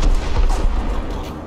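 A Charioteer tank's main gun fires in the War Thunder video game, a short heavy boom with a rumbling low tail filling the brief moment, loud and close.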